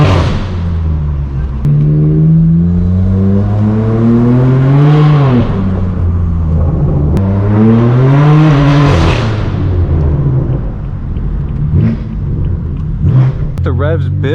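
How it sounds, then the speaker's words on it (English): A straight-piped BMW M4 driving through Hollywood streets, its loud exhaust repeatedly climbing in pitch through the revs and dropping back, close and dominant, with a few sharp pops and crackles near the end. "The revs build. See what kind of sound we can get."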